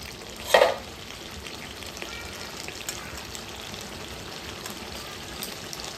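Chicken fries in a pan with a steady bubbling sizzle and soft scraping stirs, close by; a brief louder clatter comes early, then the frying hiss continues evenly.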